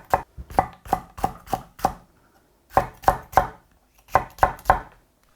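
A knife slices chili peppers on a cutting board for a Spam stew, with crisp rhythmic chops in three quick bursts of about three to six strokes each, separated by brief silences.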